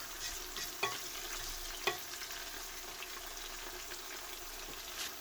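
Tomatoes fry in a pan over maximum heat with a quiet, steady sizzle, plus a couple of faint utensil clicks.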